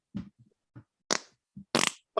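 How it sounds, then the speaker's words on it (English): A person fakes a fart on air, a few short bursts of low, rasping noise separated by gaps, the last two louder and sputtering, close to the microphone. "Shall I do a fart on air?"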